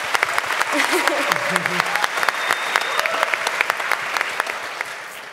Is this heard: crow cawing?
no